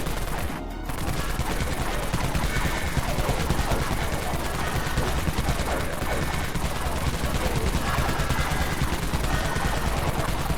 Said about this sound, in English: Let's switch to the Dawn Minigun.